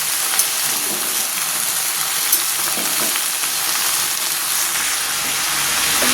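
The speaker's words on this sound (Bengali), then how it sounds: "দেখো, এরপর এটাকে অনেকক্ষণ নাড়াচাড়া করব।" Malabar spinach and other vegetables with a little turmeric being stirred in a hot pan: a steady, close sizzle and hiss with soft scraping of the stirring, no voices.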